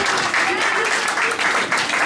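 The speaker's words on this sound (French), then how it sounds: "Est-ce que nous pouvons applaudir le frère Dieu?" Wedding guests in a reception hall applaud the groom with a dense, continuous burst of clapping that fills the room, loud and sustained throughout.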